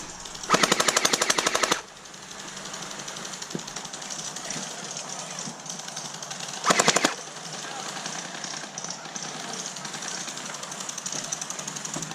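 A UMP45 Gen8 gel blaster fires two loud, rapid full-auto bursts, the first lasting over a second and the later one shorter. Between the bursts a steady mechanical whir continues amid outdoor background noise.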